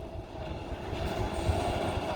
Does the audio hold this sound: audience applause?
no